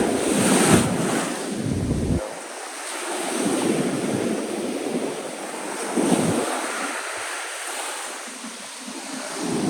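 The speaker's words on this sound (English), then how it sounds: "See as the water's receding. I'm gonna wait for a bigger wave." Ocean waves break and wash up a sandy beach in repeated surges, loud and close, with wind rumbling across the microphone and no one talking.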